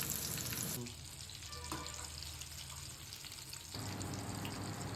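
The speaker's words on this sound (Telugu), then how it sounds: "కొంచెం కలర్ వచ్చే వరకు ఫ్రై చేయండి." Chicken pakodi frying in hot oil, a dense continuous crackling sizzle heard close up, loud throughout with a slight dip in the middle and no talking.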